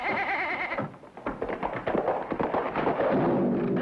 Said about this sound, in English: get rid of that goat